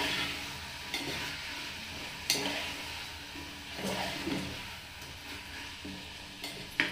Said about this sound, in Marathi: भाज्या आपण व्यवस्थितपणे परतून घेत आहोत